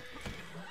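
A brief horse neigh or whinny from a video game, a short burst standing alone.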